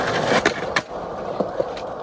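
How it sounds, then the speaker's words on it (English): Skateboard grinding along a skatepark ledge in Amsterdam: a continuous rough, scraping rumble with a few sharp clacks of the board, close and loud, no talking. "I like the way ledges like that sound when you grind on them"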